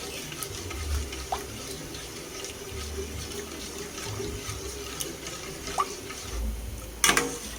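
Tap water running steadily into a container, filling it with cups of water to dissolve gulaman powder, a soft continuous splash with a few small clinks and a louder knock near the end.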